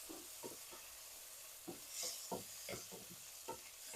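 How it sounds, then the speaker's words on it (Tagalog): Tomatoes are stir-fried in a pan for pork with salted shrimp, a soft sizzle broken by repeated scraping stirs at an irregular rhythm, heard close and quiet with no talking. "I add my tomatoes. Then I need to stir fry this."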